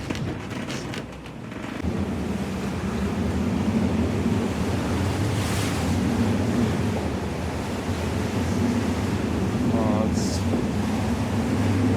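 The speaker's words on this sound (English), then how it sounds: "A big gust when we shouldn't have it. 35 knots." Strong wind buffets the microphone on a Lagoon 46 catamaran sailing at sea while waves wash and surge around the hull, a steady roar with a brief louder gust in the middle.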